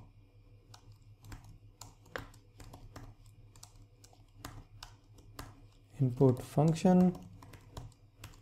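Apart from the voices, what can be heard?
typing code on a computer keyboard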